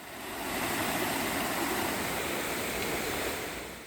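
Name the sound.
waterfall in Guryong valley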